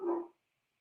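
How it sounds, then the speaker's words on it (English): A dog gives a single short bark that sounds fairly close and then cuts off into silence. "The dogs are going crazy."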